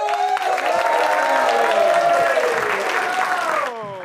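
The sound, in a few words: audience applause for a comedian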